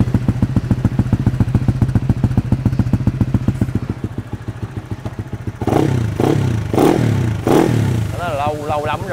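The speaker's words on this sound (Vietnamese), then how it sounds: "Deadbo 38 bây giờ nổ lên thì nó sẽ nghe như thế nào đây." Upgraded Honda Winner 65 motorcycle with a 38 exhaust idling in a fast, even thumping pulse, then revved in several loud bursts, with someone talking over the end.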